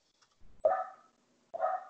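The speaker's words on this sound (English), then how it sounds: "here's someone's dog barking" A dog barks twice, short and fairly close, with a pause between the two barks and nothing else over a quiet background.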